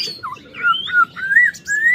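A black-throated laughingthrush sings a run of clear, rising whistled phrases with varied notes, close and loud against a faint background, with no voices.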